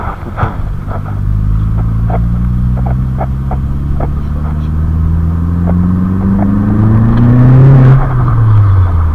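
An Audi 1.8-litre 20-valve turbo four-cylinder engine, just refitted, idles steadily then revs up in a long rising sweep and drops back, loud and close with a continuous deep rumble and no talk.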